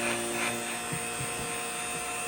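A vacuum press runs steadily for forming a Kydex holster, a loud continuous electric hum with faint clunks of handling underneath.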